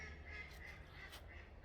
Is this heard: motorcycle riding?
no